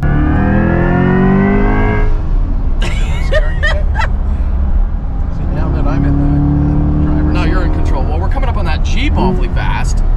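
A 2023 Corvette E-Ray hybrid running just after start-up gives a rising tonal whine for the first two seconds, then a steady low rumble continues under close conversation in the cabin.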